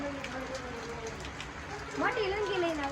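Heavy rain pours down in a steady, dense hiss from start to finish, while a tonal, voice-like sound rises and wavers over it near the end.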